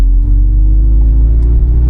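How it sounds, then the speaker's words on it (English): An electric Porsche plays an artificial exhaust rumble through its speakers, a loud, steady low engine-like drone with a faint hum above it and no talking. "There's some weird ass exhaust noise there."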